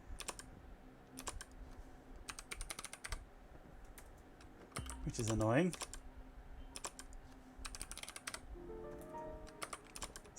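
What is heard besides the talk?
typing on a computer keyboard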